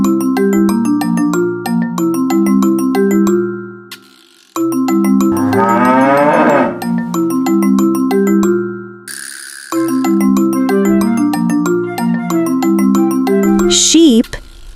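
A cartoon cow gives a drawn-out moo in the middle of a bright, bouncy children's farm tune with chiming bell notes, the music steady and loud throughout.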